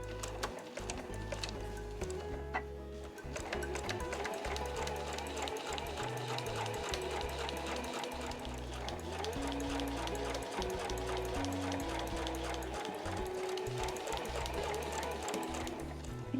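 A sewing machine stitches fabric for a drawstring pouch in a rapid, steady mechanical rattle that continues throughout, with soft tonal sounds in the background.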